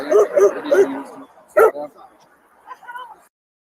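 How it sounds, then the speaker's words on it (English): Dog barking and yipping in short bursts near a busy street intersection, loud and close, with shouting voices between the barks. "my dog is now running in the fucking street at a busy fucking intersection"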